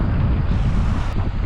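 Hard east wind buffets a microphone on a Long Island surf beach in late September, a loud, steady roaring rush with low gusting rumble and no voices.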